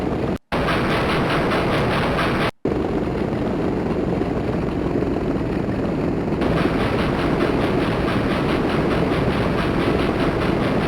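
Moving train in the DOS flight game Stunt Island, a steady broadband rumble with faint clattering that runs throughout, broken by two brief dropouts near the start.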